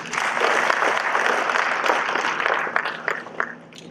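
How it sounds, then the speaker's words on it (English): Dense, steady applause from an audience at a college foundation programme ceremony, filling the room and thinning toward the end. "what you have achieved here deserves a huge round of applause."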